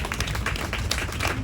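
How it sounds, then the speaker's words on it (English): A crowd at the Riverton reunion in Harlem claps for Glenn, a short burst of quick, close hand claps at fairly high volume, with no talking. "please applaud for Glenn"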